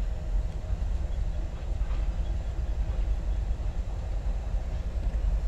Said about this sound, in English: A Tropicana, an orange juice train or refrigerator train.